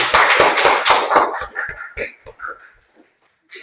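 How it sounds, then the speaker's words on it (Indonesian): Classroom applause for a student group in an Indonesian teacher-training lesson, a short burst of uneven hand claps that thins into scattered separate claps and dies away within a few seconds. "Tepuk tangan buat kelompok 2."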